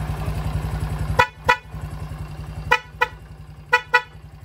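A Honda XRM 110 motorcycle horn honks in short bursts: two quick beeps, a pause, another pair, then a final pair, loud and close over a steady engine idle.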